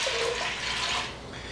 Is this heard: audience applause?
no